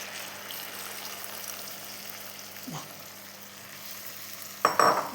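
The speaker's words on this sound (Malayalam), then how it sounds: "ഇനി ഞാൻ പുളി ഒഴിച്ച് കൊടുക്കുന്നുണ്ട്." Date pickle masala fries in a pan with a steady, close sizzle and light stirring scrapes, then tamarind water is poured in, causing a sudden louder hissing burst near the end.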